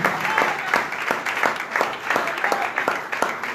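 A church congregation at a worship service applauding in a steady rhythmic beat, claps coming at a regular pace like clapping along, with a voice partly audible over it.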